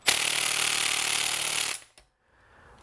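An impact wrench fitted with a T40 Torx hammers loudly in one sustained burst of under two seconds on a starter bolt of a John Deere lawn tractor engine, then cuts off to near silence.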